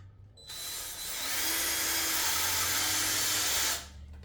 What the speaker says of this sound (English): I drilled the hole overside, chamfered the edge where the stem goes through.